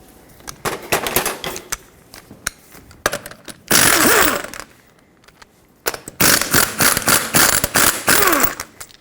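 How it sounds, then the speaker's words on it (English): Rapid ratcheting clicks of a socket wrench removing 21mm lug nuts from a Toyota Tacoma wheel, in several bursts, loud and close, with two longer sustained whirring spells, no talking. "Now you can use a regular size socket to get all the 5 21mm lug nuts off."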